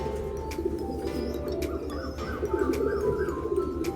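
A khaki pigeon coos close by in low, repeated throaty phrases, with a few faint chirps from other birds in the background.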